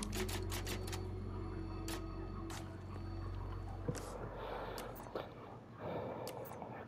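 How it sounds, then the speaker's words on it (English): Typewriter keys in the Resident Evil 4 Remake video game clack as a rapid burst of separate taps at the start, then scattered strikes follow over a steady low background hum, with no talk. "Yeah, this typewriter first."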